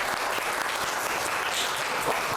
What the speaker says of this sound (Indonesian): beri tepuk tangan buat kelompok Kenara